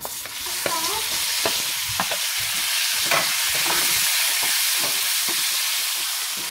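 Tomatoes fry and sizzle in a pan with turmeric for a Kerala-style tomato curry, under a constant hiss broken by repeated scraping and stirring strokes of a spoon, close and moderately loud.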